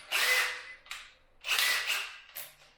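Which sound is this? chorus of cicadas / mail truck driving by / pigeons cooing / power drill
power drill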